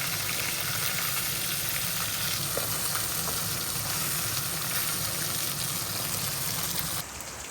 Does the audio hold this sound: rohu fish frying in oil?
yes